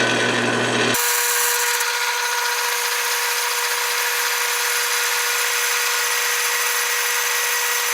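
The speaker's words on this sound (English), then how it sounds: "we're going to go drill the smaller hole now" A power drill bores a smaller hole into a metal front motor mount brace for a WR250E motorcycle, a steady loud grinding whine after a brief start, continuous throughout with no talking.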